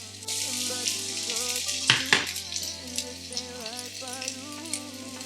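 Onion and garlic fry in a pan with a steady, gentle sizzle, joined by a couple of sharp clinks of a utensil against the pan midway, close and fairly quiet beneath a faint tonal background.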